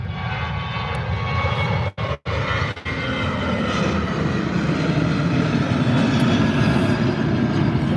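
A Ryanair airliner takes off into fog at Birmingham airport, its loud, sustained jet engine roar building and holding steady, with a few brief dropouts near the start and no voices.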